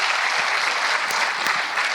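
Audience at a comedy concert breaking into dense, steady applause, close and continuous throughout with a few sharper claps standing out.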